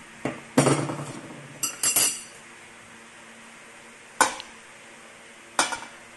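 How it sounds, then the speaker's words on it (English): Chicken macaroni salad ingredients with mayonnaise, all-purpose cream, pickles and condensed milk being mixed in a bowl, sparse clinks and scraping stirs of a utensil against the bowl, a few isolated sharp taps between quiet pauses. "Now we will mix all of our ingredients into a mixing bowl."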